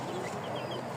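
Egyptian Fayoumi chickens cluck in a short, busy burst of soft calls over constant background noise.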